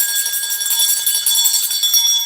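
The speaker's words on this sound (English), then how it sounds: "let's ring the bell" A bell is rung, giving a loud, bright, sustained ringing with shimmering high overtones that holds steady throughout without any speech.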